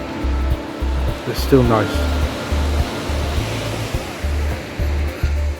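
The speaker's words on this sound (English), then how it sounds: "Waves are a little bit higher here than what they were around at Arifes beach" Ocean surf at São Rafael beach in Albufeira, Portugal, a steady broad wash of waves near a rocky cove, heavily buffeted by wind noise on the microphone while someone speaks briefly over it.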